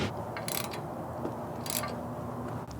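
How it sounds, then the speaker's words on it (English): A nut on a truck hitch sway bar install is tightened with an 11mm socket and wrench, producing quick ratcheting clicks in short bursts, close up over a steady background hum, with no talking. "Now we just want to tighten that down with an 11mm socket and wrench"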